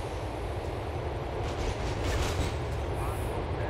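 Steady rumble of a train rolling past in GTA IV: The Ballad of Gay Tony, a dense continuous low roar with faint clattering, loud and close throughout.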